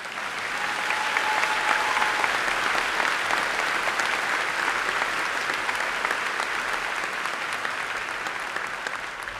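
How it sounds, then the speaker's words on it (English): A graduation ceremony crowd at Oregon High School breaks into sustained applause, a full, even wash of many hands clapping that swells quickly and holds steady for about nine seconds. "I'll clap it up."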